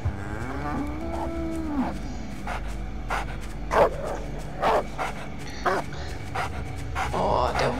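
Dogs bark in the horror game The Cows are Watching, several sharp yelps in a row over a low drone, with a cow lowing near the start.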